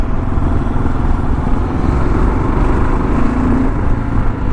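A 2022 Kawasaki KLR 650 single-cylinder motorcycle rides along in third gear, its engine droning at a steady, loud pitch with wind noise and no pauses.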